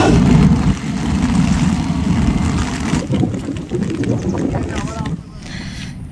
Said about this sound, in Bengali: এই যে প্রচন্ড বৃষ্টি পড়ছে আর এরোপ্লেন যাচ্ছে।